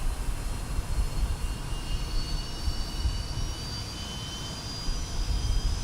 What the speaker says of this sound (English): the engines are now being started